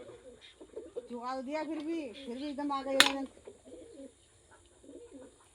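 Pigeons coo with soft, repeated throaty calls close by, mixed in with people chatting in Hindi at home, plus one sharp click partway through.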